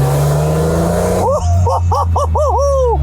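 An old BMW with a supercharged straight-six engine revs loudly up close, with several sharp rising and falling blips after a steady drone. A voice can be heard alongside the engine.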